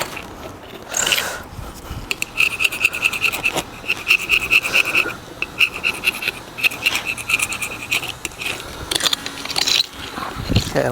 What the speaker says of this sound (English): So I'm just sticking it in there and scraping it around, getting as much as I can off.